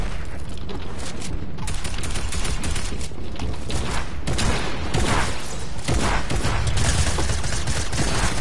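Rapid, dense gunfire from a Fortnite battle, with pump shotgun blasts among overlapping shots and impacts, loud and continuous throughout with no pauses.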